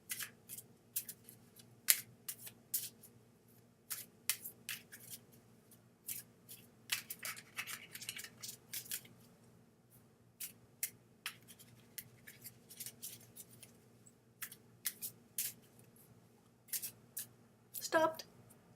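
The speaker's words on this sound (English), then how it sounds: "now I'm shuffling properly" Playing cards are shuffled during an online prayer gathering in a series of crisp riffles and snaps. They come at irregular intervals over a low steady hum, faint and close, with occasional quiet talk.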